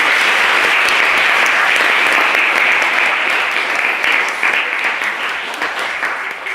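An audience claps for the debaters at a school debating competition final, a loud dense wash of applause that holds steady, then thins slightly toward the end.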